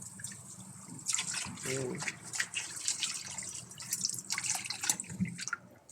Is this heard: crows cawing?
no